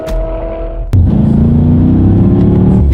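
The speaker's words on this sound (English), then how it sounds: "We are going to do a quick little acceleration, and we're going to see how quickly they react for us here in the 2019 M5." A 2019 BMW M5 launches hard in paddle-shift mode: a sharp upshift click, then a loud, close engine roar rising steadily in pitch with a heavy low rumble and no talk.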